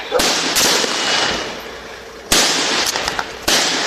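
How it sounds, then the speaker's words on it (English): Gunshots ring out during a Texas police confrontation caught on body camera: a few sharp, loud cracks spaced apart, with noisy, rustling movement between them. "Shots fired. Shots fired."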